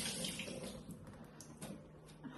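Tap water runs steadily into a sink to rinse off food being cooked, with a soft continuous splash and a few small clatters, close and fairly quiet.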